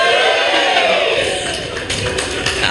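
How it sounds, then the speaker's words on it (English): A gathered crowd at a school boat handover ceremony gives a loud group cheer, a sustained shouted roar lasting a few seconds with slight dips. "Can we have a big cheer?"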